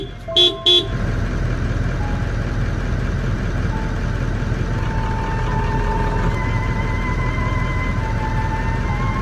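A car horn sounds two quick, loud honks at the start to scare off a lion at a campsite, followed by a steady idling engine rumble with faint tonal hums, no talking.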